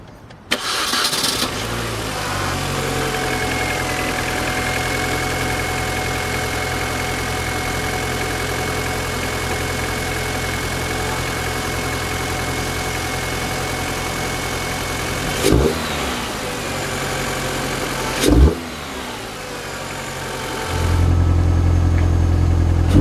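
A car engine cranks and starts, then idles steadily with a couple of quick revs before settling into a louder idle near the end.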